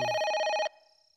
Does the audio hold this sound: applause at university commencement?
no